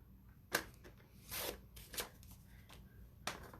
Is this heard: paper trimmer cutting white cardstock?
yes